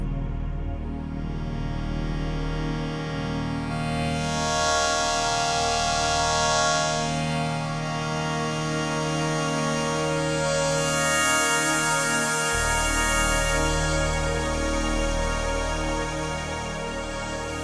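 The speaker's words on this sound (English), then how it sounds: "we'll just solo the bass and the Hydra synth" Layered synthesizer tones over a deep bass line, with swelling high buzzy Hydra synth chords rising and falling like a siren, steady and loud with no voices.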